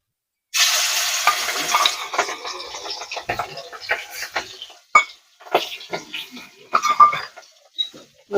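Mustard oil sizzles in a pan, a loud burst of frying that settles into uneven crackles, with scrapes and clatters of stirring and a voice briefly heard.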